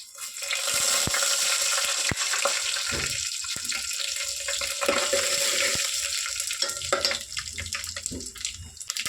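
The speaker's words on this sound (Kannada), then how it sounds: "ಎಣ್ಣೆ ಕಾಯಿಲಿ, ಸಾಸಿವೆ ಹಾಕ್ಕೊತೀನಿ, ಜೀರಿಗೆ ಹಾಕ್ಕೊತೀನಿ, ಕರಿಬೇವಿನ ಸೊಪ್ಪು" Mustard seeds, cumin and curry leaves sizzle and crackle in hot oil, a loud, continuous close hiss with scattered sharp pops and spatters.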